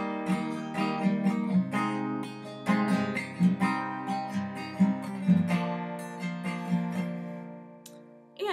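Another song's chord progression plays on a sustained keyboard-like instrument, a series of rhythmic, evenly paced chord strikes with ringing overtones over roughly eight seconds, fairly quiet and without any voices.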